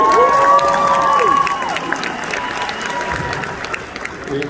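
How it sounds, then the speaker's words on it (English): An audience at a leadership school event breaks into applause and cheering, a dense clapping crowd that is loud at first and then tapers, with a tone over the start. "Give her a round of applause."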